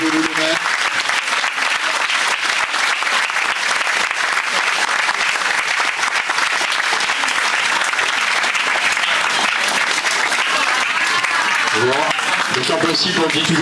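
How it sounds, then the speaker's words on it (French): Long, loud, continuous audience applause at a public event in Terrasson, dense clapping from many hands close by, with voices rising near the end. "On les applaudit, allez, soyez pas avares."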